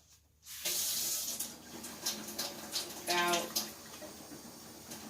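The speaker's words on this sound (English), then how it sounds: "So I'm going to go ahead and put some water in here" Water pours into the container of a vacuum cleaner setup, a steady splashing hiss that starts abruptly and runs for several seconds with small surges, close and clear, with a brief spoken word.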